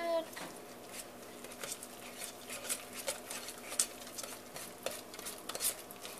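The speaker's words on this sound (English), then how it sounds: "you want to mix it completely before adding the next egg" Eggs are mixed into eclair cake batter with quiet, wet stirring and occasional soft clinks of a utensil against the bowl, faint and close.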